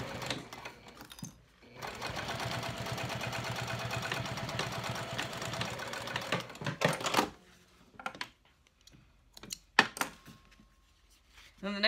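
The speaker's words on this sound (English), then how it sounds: "So I just need to top stitch across this here." A sewing machine top stitches cork fabric, running steadily at close range for about five seconds, then stops, followed by scattered handling knocks.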